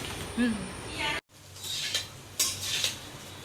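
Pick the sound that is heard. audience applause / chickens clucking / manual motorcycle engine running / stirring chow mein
stirring chow mein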